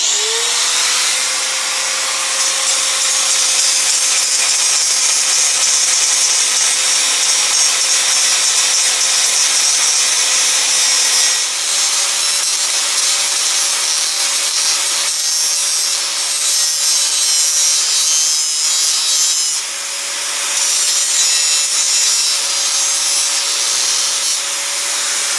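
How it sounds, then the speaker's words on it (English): Bosch angle grinder with a 5-inch cutoff wheel grinding down weld beads on metal mounts for a Polaris Ranger XP1000 light bar, a loud continuous high-pitched whine and hiss held for about twenty-five seconds, close and alone. "Now we're gonna grind down the beads with our Bosch grinder."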